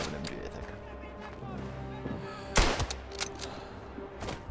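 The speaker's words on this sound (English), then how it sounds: "They have an MG, I think." Enemy machine gun firing in the World War I shooter Tannenberg, a sharp loud burst of shots amid ongoing battle noise, with a few scattered cracks following and players talking over it.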